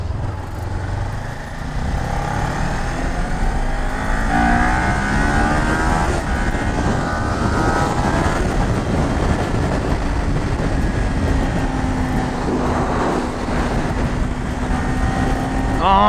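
A Kawasaki Ninja 400 motorcycle riding on a highway with a freshly cleaned chain, a loud steady engine drone with rising and falling pitch sweeps as it accelerates, mixed with heavy wind rush close up.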